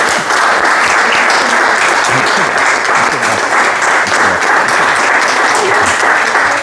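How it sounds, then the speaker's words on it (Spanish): Dense, loud applause from an evening audience welcoming Don Jack to the stage, a continuous wash of many hands clapping at once with no talk over it. "le vamos a dar un aplauso a don Jack"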